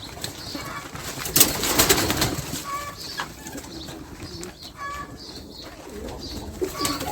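A Baku pigeon cooing nearby in soft repeated calls, with some wing flutters and faint background bustle.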